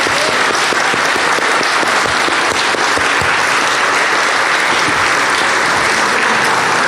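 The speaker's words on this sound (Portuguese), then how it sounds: "Uma salva de palmas." A church congregation welcoming a pastor gives a loud, sustained round of applause, dense clapping filling the room evenly from start to finish with no talking over it.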